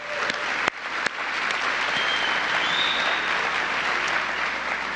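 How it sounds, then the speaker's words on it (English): Applause from an audience at a mayoral announcement of a DC public schools partnership with FC Barcelona, sustained even clapping throughout, with a couple of sharp nearby claps early on. "Let's do a round of applause for this partnership."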